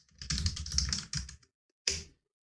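Quick keystrokes clatter on a computer keyboard while typing a search query, a dense run of about a second followed by a pause and one brief final burst, close and clear with no talk.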